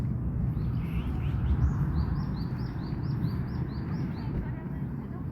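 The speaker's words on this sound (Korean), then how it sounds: "새소리도 들리고 좋죠." A series of short, high bird chirps repeats faintly over a loud, rumbling wind-like background, with no clear talk.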